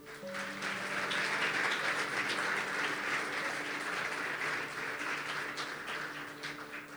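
A church congregation applauds during a celebration service, a sustained, even wall of clapping with faint sustained organ or keyboard tones underneath.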